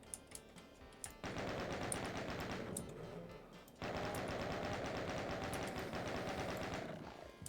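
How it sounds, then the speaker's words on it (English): Chain gun firing in the Doom map pack No Rest for the Living: two long, loud sustained bursts of rapid automatic fire, the first stopping briefly before the second begins, with no talk over them. "Gotta stick to the chain gun for a little bit"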